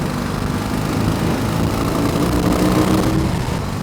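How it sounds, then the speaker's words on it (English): Big BMW R18 Bobber motorcycle pulling away, a steady close engine rumble with a rough low throb, loud and continuous without any voices. "It doesn't take much to get this big bike moving."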